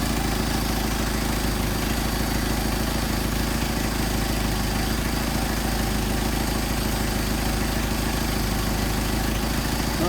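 A Mercedes 190SL engine idling on Solex carburetors, warmed up with the thermostat open, running as a steady, dense and continuous rumble close to the listener with no pauses.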